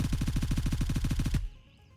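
Fully automatic M4 rifle burst in the video game Gray Zone Warfare: a rapid, even string of about fifteen loud close shots lasting over a second, then an abrupt stop with a short fading tail.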